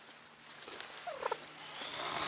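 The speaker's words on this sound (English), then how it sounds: "These are wild turkeys." Wild turkeys gobble outdoors, a short burst of rattling calls standing out faintly over steady background noise, with no talking.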